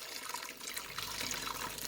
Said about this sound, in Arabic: وكمل إضافة المي